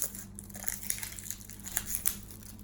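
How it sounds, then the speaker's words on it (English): Thin plastic wrap crinkles and crackles as it is peeled off a 1974 Tarot Classic deck, with continuous soft rustling and small louder crackles, close but fairly quiet. "let's unwrap this little plastic"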